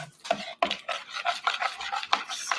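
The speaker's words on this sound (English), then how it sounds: "And then you just keep stirring until it's incorporated." A spoon stirs gelatin into warm liquid in a bowl for homemade turkey-pumpkin dog treats, giving close, rhythmic scraping strokes repeated rapidly for a couple of seconds.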